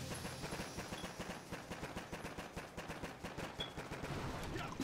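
Upgraded sniper tower firing in the Boom Beach mobile game, rapid repetitive cracking shots in a steady stream, fairly quiet and continuous, with no talk.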